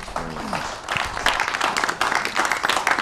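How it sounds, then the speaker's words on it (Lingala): A hall audience of students and family members at a televised panel breaks into dense, sustained clapping. The applause swells right after a brief voice and keeps going, loud and close, to the end. "on peut encore applaudir"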